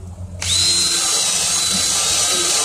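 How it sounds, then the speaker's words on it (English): A handheld power drill whines up to a loud, steady high-pitched spin as it strips bubbled paint, starting abruptly after a brief quiet moment and running continuously with no talking. "So what you do is you take drill,"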